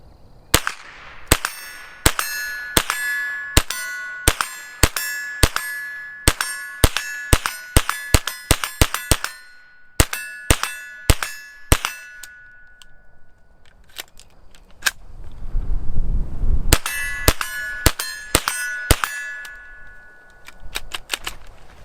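Rapid .22 LR shots from an AR-style rifle fitted with a CMMG Bravo conversion kit ring out in a fast string of sharp cracks, each answered by a metallic ding from a steel target, followed by a pause and a second burst.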